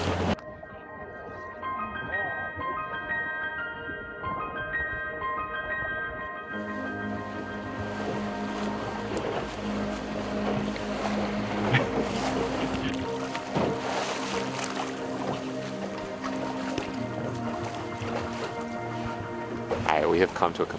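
A tour boat motoring across choppy ocean water off Baja, Mexico: a steady, humming engine drone settles in after a few seconds, over wind and rushing water.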